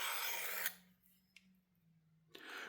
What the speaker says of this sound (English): And now we're at the 400 grit. And we're just going to go back and forth.